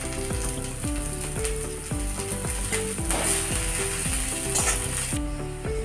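Chopped onion and green chilli fry in hot oil in a pan, a steady sizzle running throughout beneath a repeating tonal mechanical whir, with no voices.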